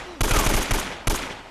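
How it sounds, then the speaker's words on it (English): Automatic gunfire in the Uncharted video game, loud and close, a sustained rattling burst, a short break and then another burst, with no talking. "You just got riddled with bullets."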